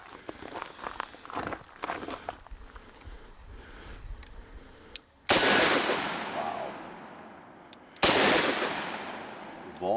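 Two sharp, loud shots from a Smith & Wesson 686 PC 5-inch .357 Magnum revolver ring out a few seconds apart, each with a long decaying echo after quieter shuffling.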